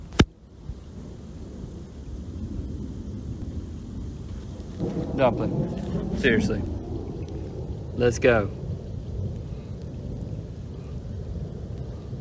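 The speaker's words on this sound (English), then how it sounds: "It is lightning outside, and I'm not coming back out here to get you in the storm." Thunder rumbles low and steady outdoors during a storm with lightning, a broad continuous roll under rain, with a person calling out and talking over it.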